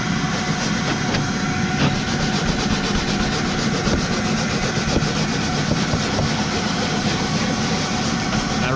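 A bristle brush scrubs plastic trim inside a garbage truck cab with trim cleaner, a continuous, close rasping rub with quick repeated strokes and no voices.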